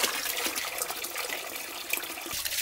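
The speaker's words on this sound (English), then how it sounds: "let's go ahead and add some hose water." Hose water pours steadily into a homemade bait tank, a bright, continuous rushing splash close up that stays fairly even throughout, with no talking.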